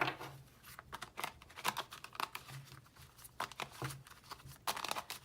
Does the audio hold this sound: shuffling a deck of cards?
yes